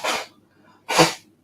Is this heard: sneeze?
yes